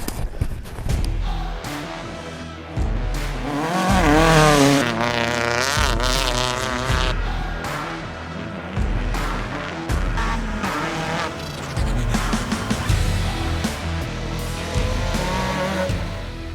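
A 1993 Mitsubishi Lancer GTI rally car drives on a short course, its engine revving up and down loudly and close with bursts of tire squeal and skidding throughout.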